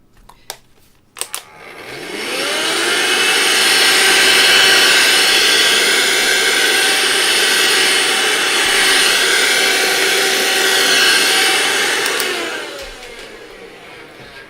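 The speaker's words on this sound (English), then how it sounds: "I'm gonna use a vacuum cleaner" A vacuum cleaner starts with a rising whine, runs at a steady loud roar for about ten seconds, then winds down, with a couple of clicks before it starts.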